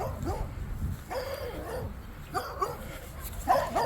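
A dog in a park barks and yips in short bursts, several close, fairly loud calls with whimpering in between.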